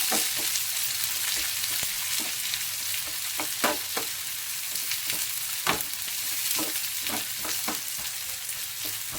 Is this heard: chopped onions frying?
yes